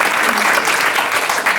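An audience at a public meeting claps together in dense, steady applause, close and loud throughout the brief stretch.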